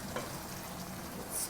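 Mutton cooks with half a diced tomato in a pan for mutton ghee roast, making a soft, steady sizzle as it is stirred, fairly quiet and close.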